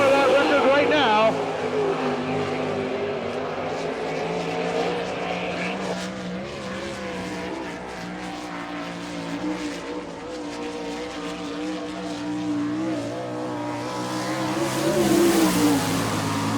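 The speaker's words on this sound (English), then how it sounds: "And we'll see if Mr. Keith Kaufman can lower that record right now." A sprint race car driven by Keith Kaufman roars around Port Royal Speedway on a lap-record attempt at an All Star Circuit of Champions event, its engine droning and revving steadily for the whole stretch, surging louder near the end.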